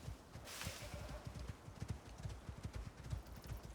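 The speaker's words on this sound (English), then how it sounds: "Let's jump on the horse." Horse hooves clip-clopping in a steady rhythmic gait in the video game Icarus, faint and even, with a brief breathy whoosh near the start.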